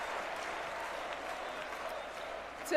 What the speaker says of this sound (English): then there's applause for 30 seconds